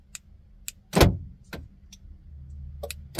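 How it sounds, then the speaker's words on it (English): Several sharp mechanical clunks of car door locks actuating, spaced irregularly, close by with quiet pauses between them. "as you can hear, it now locks and unlocks the car"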